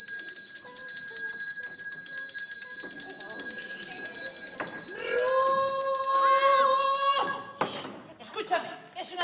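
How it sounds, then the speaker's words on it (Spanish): A hand bell rings loudly and continuously for about seven seconds in a stage comedy scene, its bright metallic ringing tones sustained before stopping abruptly, with voices talking over part of it. "si vuelvo a sonar la campana"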